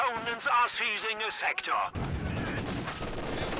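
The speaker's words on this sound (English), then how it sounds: "Mortar from Drange, and Drange loses a Grenadier." A voice speaks over a battle in the strategy game Company of Heroes 2, a 4v4 match, then the talk gives way to a loud burst of mortar and gunfire noise.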